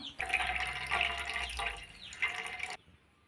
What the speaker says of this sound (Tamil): இப்போ வந்து கொஞ்சம் தண்ணி சேர்த்து மொதல் பால் திக்காக அது மட்டும்தான் எடுக்கணும்